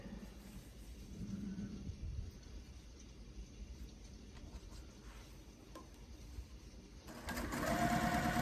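A home sewing machine stitches quilt pieces with a steady, close mechanical whir and patter. It swells louder over the final seconds as stitching speeds up, with no talk.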